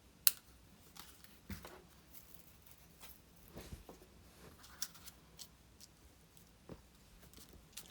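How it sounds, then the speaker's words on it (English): Scissors snipping ribbon loops while making a black and gold poinsettia card, heard as sparse, quiet clicks and snips scattered at irregular intervals over a soft background. "snip off with the scissors."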